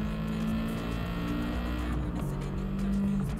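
Rally car engine in Gran Turismo 7 revving hard with a steady droning tone that dips and climbs again as it shifts, loud and continuous with no talking.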